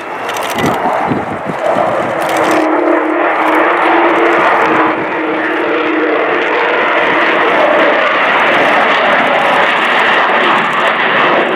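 The Avro Vulcan XH558 bomber passes back across the airfield at an air show, a loud, sustained jet engine roar that swells after the first couple of seconds and holds as a broad rumbling howl.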